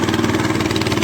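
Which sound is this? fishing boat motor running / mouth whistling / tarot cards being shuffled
fishing boat motor running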